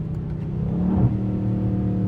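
A Dodge Scat Pack engine roars in second gear on a snowy road, a loud, close, steady rumbling drone with the pitch rising briefly midway, no talk.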